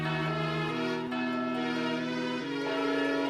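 A wedding bell rings out in Harvest Moon: Island of Happiness, a sustained resonant chime with layered tones that shift pitch slightly as it rings steadily throughout.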